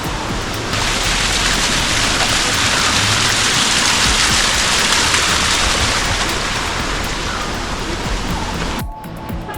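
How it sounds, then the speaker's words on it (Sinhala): Water rushes along a stone stairway path near Bomburu Ella waterfall, a loud, steady, dense hiss like heavy rain that continues unbroken and then cuts off abruptly near the end. "වතුර උනනවා."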